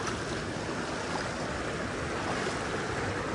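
River water flowing steadily on a hot sunny day outdoors, a continuous broadband wash of moving water with some wind, moderately loud and unbroken, with no talking.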